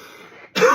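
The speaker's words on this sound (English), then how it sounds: "I'm going to start coughing." Someone clears their throat in a single sharp, close burst after a brief low murmur, the rasp cut off abruptly at the end.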